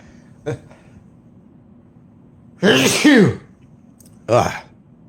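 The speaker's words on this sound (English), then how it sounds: "I gotta sneeze" A small throat sound, then a loud, drawn-out sneeze with a vocal wind-up, followed a moment later by a second, shorter sneeze.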